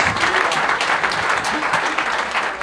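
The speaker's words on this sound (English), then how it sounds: "a final round of applause for Luke and all of our winners tonight" A packed room at an AFC Wimbledon end-of-season awards night claps steadily for the winners, a dense, even wash of applause with murmured voices beneath it.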